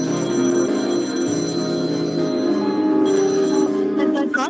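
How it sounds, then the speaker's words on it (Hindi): A phone call's ringing tone sounds loud and close as a steady, repeating electronic ring with no one talking. "मैं एक बार और फोन ट्राई करूँ साहिल को बस"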